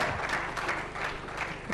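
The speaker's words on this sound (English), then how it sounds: "Round of applause, guys, for them." Brief audience applause for a startup team, Team Medical Joyworks from Sri Lanka, at a pitch competition awards event, a steady wash of clapping at moderate distance.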